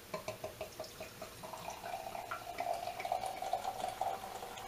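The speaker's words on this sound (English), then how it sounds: "Nice big sounding bubbly pour." Overshores Tripel Brun beer is poured into a glass, starting with several rhythmic glugs from the bottle, then a continuous fizzy, bubbly stream as the glass fills, close and fairly quiet.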